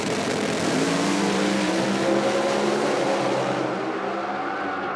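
A drag racing car at IHRA drag races roars down the strip on its pass, a loud continuous engine blast that stays strong before fading slightly as it pulls away.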